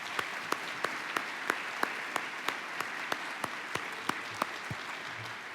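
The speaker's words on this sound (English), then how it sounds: "please let's give them a huge round of applause" Audience applause at an opening welcome for a centennial program, heard as crisp, evenly spaced claps in a steady rhythm against a quiet room, moderately loud and uninterrupted.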